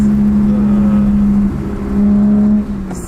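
A turbocharged 400+ hp BMW 135i engine drones loudly at a steady pitch, dips briefly, then holds again before easing off near the end.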